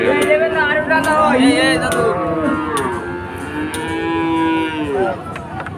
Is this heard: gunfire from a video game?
no